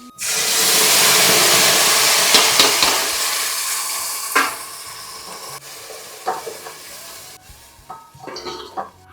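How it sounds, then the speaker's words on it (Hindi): Tadka of cumin, coriander seeds, fenugreek and garlic hitting hot oil, a loud burst of sizzling and steam hiss that slowly settles, with scattered clinks and stirring scrapes of a spoon in the pan. "तो यहाँ पर अब मैंने तड़का लगाना शुरू कर दिया है"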